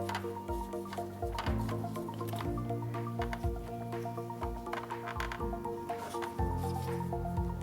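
Compressed coconut coir brick for a terrarium being broken up by hand, with continuous soft wet squishing and crumbling close by and no talk.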